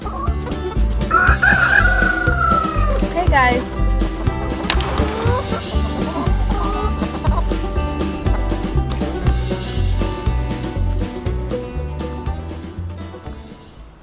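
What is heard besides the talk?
chickens clucking while eating raspberries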